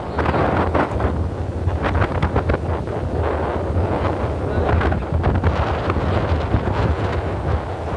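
Steady, heavy wind in Singapore buffets the microphone, a loud continuous rumble with gusty bursts throughout.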